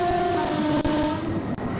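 A train horn sounds loudly in a sustained blast at a whistle board over the steady rumble of a moving train, with brief clicks of the rails, in the OpenBVE train simulator.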